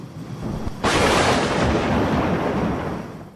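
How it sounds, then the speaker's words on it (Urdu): A thunder sound effect in a torrential storm: a sudden sharp crack breaks out of a low background rumble, then rolls on as a loud, dense, continuous roar that slowly fades, with no voices over it. "بادل گرج اور چمک رہے تھے، بجلیاں کڑک رہی تھیں"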